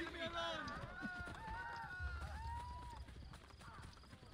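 Horse hooves gallop in Assassin's Creed Brotherhood, a steady game clip-clop running beneath continuous talk and game sounds.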